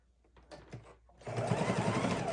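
A sewing machine runs a lock stitch through a fabric soup bowl cozy. Soft handling noises come first, then a steady, close, loud mechanical whir carries on to the end without talk.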